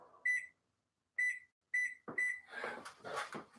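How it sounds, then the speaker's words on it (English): Kitchen timer beeping while cookies bake, four sharp electronic beeps spaced about half a second to a second apart, followed by clattering and handling noise close by. "we did a kitchen timer for another 45 seconds just to make sure they're done"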